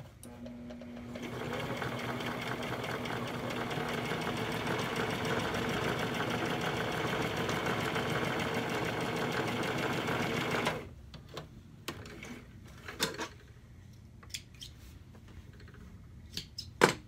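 A sewing machine stitches steadily for about ten seconds at a loud, even whir, then stops, leaving quiet handling clicks and rustles of fabric as the seam is laid flat.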